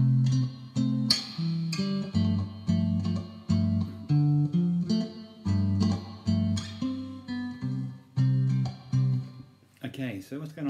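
A three-string guitar plays a melody as a steady run of clear plucked notes, close and fairly loud, with a brief voice at the very end.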